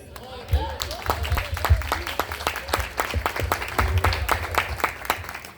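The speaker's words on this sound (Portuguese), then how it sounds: "que as palmas louvam Jesus" A church congregation claps in praise at a worship service, sharp rhythmic handclaps repeating steadily for several seconds beneath voices and background murmur.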